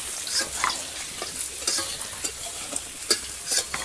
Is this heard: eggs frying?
yes